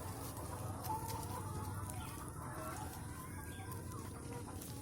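Chickens cluck steadily around a house yard near a small free-range coop, a dense low flock murmur with occasional sharper calls, moderately loud and continuous with no talking.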